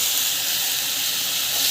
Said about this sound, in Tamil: ஸோ இதுவும் வந்து நல்லா வதங்கணும்.